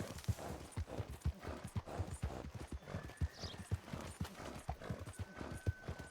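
Horse hooves clip-clop in a quick, even rhythm as a horse is ridden in Red Dead Redemption 2, close and distinct, with a faint tone sounding in the background.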